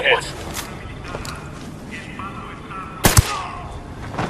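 Gunfire in Ghost Recon Wildlands comes as a few sharp shots, with one loud close crack near the end, set under game dialogue and ambient noise.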